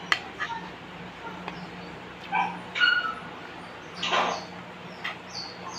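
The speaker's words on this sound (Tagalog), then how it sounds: "narinig niyo yung aking aso sa labas" A hungry pet dog outdoors yips and whimpers in short bursts, several separate cries spread across the moment, over a low background hum.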